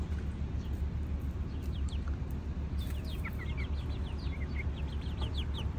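Chickens cluck and chirp in short bursts over a steady low hum, several birds calling softly at moderate distance.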